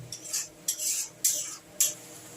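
A utensil scrapes and stirs spice masala with tomato in a pan for a cauliflower and potato kosha, giving four separate, evenly spaced scraping strokes with quiet pauses between them and no talking.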